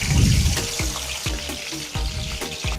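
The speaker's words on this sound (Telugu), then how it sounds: "ఆయిల్ కాగిన తర్వాత మనం ఉడికించి పెట్టుకున్న ఎగ్స్ని వేసుకుని ఆయిల్లో వేయించుకోవాలి" Boiled eggs frying in hot oil for an egg curry crackle and sizzle steadily up close, with a few soft rhythmic scraping bumps as they are moved around.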